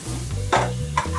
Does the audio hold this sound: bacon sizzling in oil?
yes